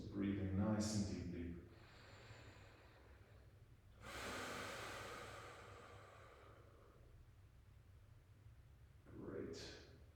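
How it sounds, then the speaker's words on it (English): Slow, deep breaths during a gentle postpartum mat workout: three drawn-out, airy inhales and exhales spaced several seconds apart, close and soft against a quiet room. "Still breathing nice and deeply."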